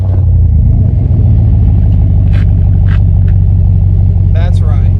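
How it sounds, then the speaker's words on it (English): A car fitted with a modified exhaust gives a loud, steady low rumble close by, with brief voices rising over the engine now and then. "We had to change that exhaust. I couldn't take it sounding like a Prius anymore."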